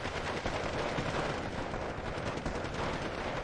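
Dense machine-gun fire in the World War II strategy game Steel Division 2, a continuous loud clatter of rapid shots that blends with other battlefield gunfire for the whole stretch.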